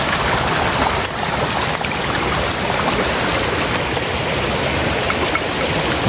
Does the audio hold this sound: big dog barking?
no